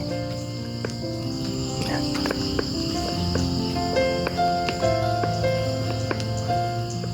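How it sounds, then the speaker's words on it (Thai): A dense chorus of frogs calling beside a brimming, flooded canal near a shady takhian forest, layered croaks and trills overlapping steadily and loudly throughout with no pauses and no talking. "ฟังเสียงกบเสียงเขียดเสียงเขียดร้องนี่"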